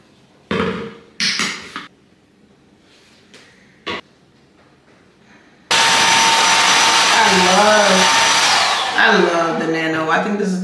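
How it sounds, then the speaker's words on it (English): A loud, steady FHI Nano 2200 blow dryer runs close by while drying hair, its airflow roar shifting in pitch as it is moved, following a few brief knocks and handling sounds. "All of FHI's blow dryers cut your drying time in half, literally."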